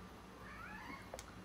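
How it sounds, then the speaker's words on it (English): A pet cat meows once in a drawn-out, rising and falling cry, fairly close, over quiet room background with a small bump near the end. "that's my cat Bjorn, he says hello"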